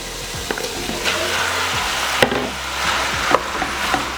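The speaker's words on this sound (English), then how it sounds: "Now we're gonna go ahead and add our marinated beef." Marinated beef tipped onto softened onions in a hot pan for a Vietnamese bo kho beef stew, a loud steady sizzle with scattered scraping and stirring clatters, no voices.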